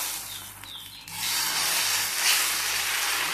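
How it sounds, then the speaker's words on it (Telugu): Onion pesarattu batter hits a hot pan with a steady, broad sizzle that swells louder after a second and hisses on without pause, close and alone. "ఇప్పుడు ఉల్లిపాయ పెసరట్టు వేసుకుంటున్నానండి."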